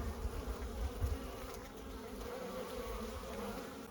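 Honey bees buzz around their hives on a cool day during cleansing flights, a soft continuous hum with close passes swelling briefly, fairly faint.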